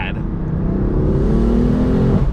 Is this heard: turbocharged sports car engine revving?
yes